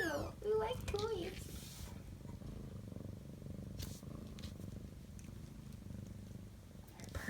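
A mother cat with 11-day-old kittens purrs loudly and continuously, a close, low rumbling drone; a voice speaks briefly at the start over the purring.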